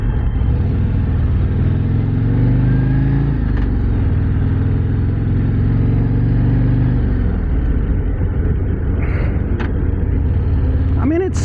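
A Harley Davidson Street Glide Ultra motorcycle cruises at slow speed, its engine a loud continuous low rumble with a gentle shift in pitch partway through, heard close against wind noise.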